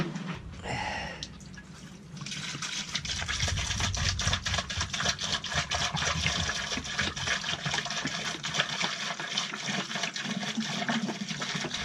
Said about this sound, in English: So now I'll pour some antifreeze into the bilge.